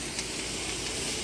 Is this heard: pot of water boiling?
yes